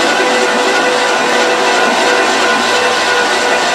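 A 1971 Ford Ranchero engine turning over on its starter, a loud, dense, continuous mechanical whirr with no pauses or talking, heard close up throughout.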